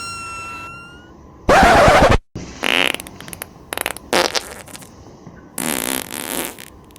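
Several fart sounds of different lengths, from a long loud rasp to short sputters and a final drawn-out blast, separated by pauses and heard alone.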